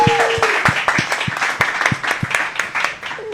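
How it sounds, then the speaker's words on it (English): A small live audience at a Monday evening talk event claps for a guest, with sparse, uneven hand claps and a few sharp individual claps standing out close by over faint background chatter. "Round of applause for our guest."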